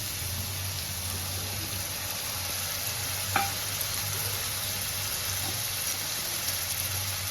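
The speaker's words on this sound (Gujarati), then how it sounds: "હવે આપણે એમાં ટમેટાની આ પ્યુરી બનાવેલી છે એ આપણે નાખીશું એમાં" Tomato puree hisses and sizzles in a hot pan for a cheese panini pav filling, a steady close frying wash with one brief clink partway through and no talking.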